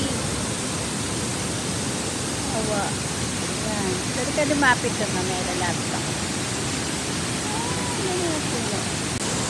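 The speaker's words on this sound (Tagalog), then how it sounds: "Maagos ang tubig." A steady, roaring rush of falling water from Shiraito Falls in Nishihara Village, Kumamoto, fills the scene, loud and close, with people talking briefly underneath.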